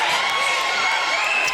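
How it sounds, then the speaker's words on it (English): A school gym crowd at a 7th and 8th grade volleyball match cheers and shouts steadily, with a bright, sustained wash of young voices and whoops and no break in the noise. "Crowd's going kind of crazy here"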